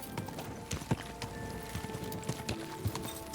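Horse hooves clip-clop unevenly at close range in the video game Kingdom Come: Deliverance II, a handful of sharp knocks over a faint steady hum, with no talking.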